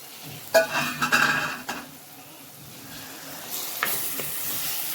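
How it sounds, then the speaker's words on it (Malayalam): Tomato, onion and chilli cauliflower curry being stirred in a pan, a burst of close scraping and clinking strokes early on, then a softer ongoing sizzle with a few later scrapes. "നല്ലോണം ഒന്ന് ഇളക്കി കൊടുക്കാം."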